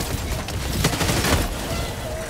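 Sentry turrets in a video game fire rapid overlapping bursts of gunfire, a dense loud clatter of shots under ongoing game noise.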